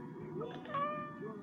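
A cat meows a few times close by, short rising and falling cries over a soft background murmur.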